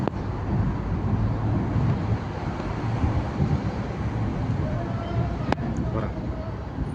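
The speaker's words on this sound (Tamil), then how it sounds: "பாருங்க சரியான மண்ணு காற்று கோயத்தில்." Sandstorm wind in Kuwait roars steadily as a dense, broadband rush close to the microphone, with a voice talking over it.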